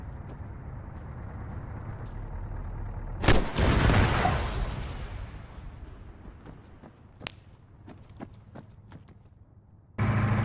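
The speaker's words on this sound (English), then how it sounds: "Hear a really loud gun on the hill over here" Loud gunfire on a hill in the video game Arma 3: one heavy, sharp blast with a long rolling echo, followed by fainter scattered cracks and another burst near the end.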